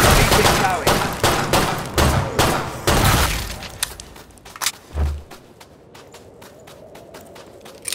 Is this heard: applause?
no